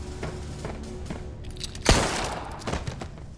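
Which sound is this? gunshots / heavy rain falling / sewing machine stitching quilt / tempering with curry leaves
gunshots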